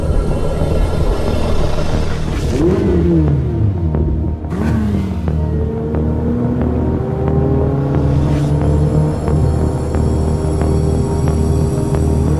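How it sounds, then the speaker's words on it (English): A Ferrari engine recording plays loud and steady with a constant low drone, and rising and falling pitch sweeps suggest revving through gear changes. No voices are heard. "It's a Ferrari engine,"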